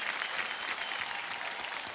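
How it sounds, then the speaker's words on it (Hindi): Loud, dense studio audience applause on the Hindi quiz show Kaun Banega Crorepati, a continuous wash of many hands clapping at full strength for the whole stretch with no voices. "एक बार फिर जोरदार तालियां बज गई हैं"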